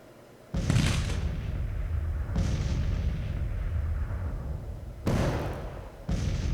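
Artillery bombardment in the video game Grand Tactician: Civil War at the Battle for Alexandria: four heavy, booming cannon volleys at uneven intervals, each with a long rumbling tail, with no talk.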